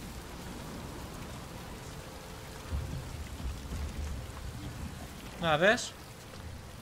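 Rain pattering steadily in the Detroit: Become Human video game, a soft continuous wash with a low rumble, briefly interrupted near the end by a short spoken phrase from a man.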